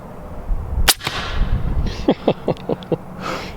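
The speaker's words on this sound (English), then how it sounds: "Most of that sound you're hearing is the bullet hitting." A sharp crack of an air rifle shot, followed by a series of quick, clipped impacts and knocks, mostly the bullet hitting, with no voices.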